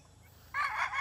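A chicken crows at a small backyard poultry farm, one loud burst rising abruptly after a quiet lead-in and holding for the last half second.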